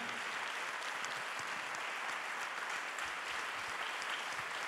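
Steady, dense applause from a large concert audience honoring an Italian singer, a continuous wash of many hands clapping at even loudness with no voices standing out.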